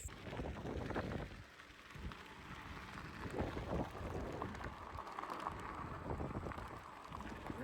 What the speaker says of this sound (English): you see how it is, it's raining today